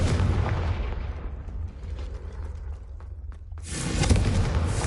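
A fire spell explodes in a wizarding video game, a loud broad blast that decays over about a second before a second burst erupts near the end, with rumbling low-end throughout.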